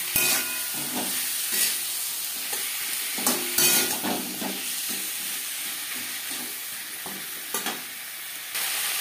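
Potatoes frying with ginger and green chili paste in a pan, a steady sizzle and hiss broken by scraping, clattering stirring strokes at irregular intervals, close and moderately loud.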